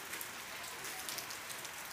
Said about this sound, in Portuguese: ainda continua chovendo bastante aqui